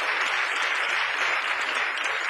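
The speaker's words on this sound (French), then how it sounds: "Une bonne main d'applaudissement." An audience at a youth debating tournament final applauds a winning team, a dense, even wash of clapping filling a short stretch without pause.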